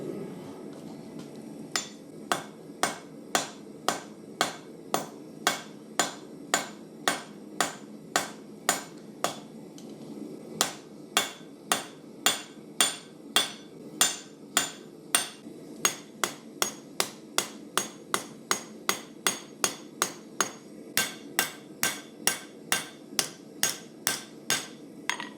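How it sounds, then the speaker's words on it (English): A Deba knife blank is peened on an anvil with a horizontal peen hammer during forging, producing dozens of sharp, ringing metal strikes in a steady rhythm, close and loud, with a short pause midway. "So what I was doing when I was peening that section, I'm actually widening it."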